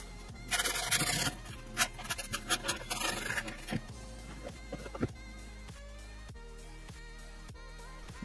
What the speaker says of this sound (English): we're gonna take an extra piece of grip tape and sand down the